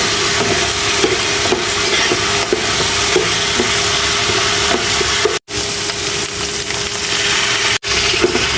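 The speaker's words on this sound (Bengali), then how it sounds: "এখন মাছে যে মশলা দেবো সেই মশলাই ভুনে নিতেছি" Spice paste for a fish curry fries in a pan with a steady, loud sizzle and crackle, a low mechanical hum underneath and brief breaks in the sound.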